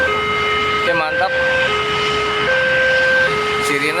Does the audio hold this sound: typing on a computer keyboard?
no